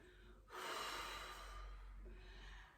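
Breath exhaled during a Pilates exercise, a soft, drawn-out airy rush close to the microphone, easing off over a couple of seconds.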